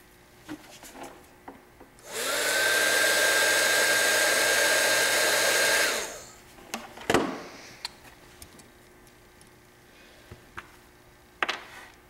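A heat gun blows hard for about four seconds while shrinking heat shrink tubing onto a battery connector for a removable link, a steady airy whoosh with a faint tone, followed by a few clicks and handling knocks.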